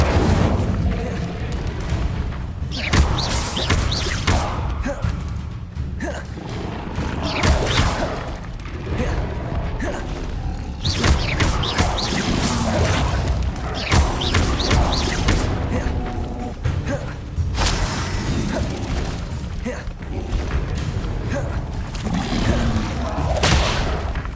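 The Incendio fire spell is cast repeatedly in Hogwarts Legacy, bringing loud bursts of booming, crashing fire blasts and whooshes in a dense, busy sequence of combat effects.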